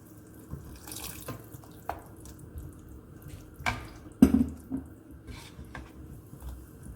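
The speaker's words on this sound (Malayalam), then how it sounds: "ഇനി നമുക്ക് ആവശ്യത്തിന് വെള്ളം ഒഴിച്ചു കൊടുക്കാം" Water splashes into a pan of mushroom mutter masala in short bursts, with a few quick pours and clinks of utensils against a quiet kitchen background.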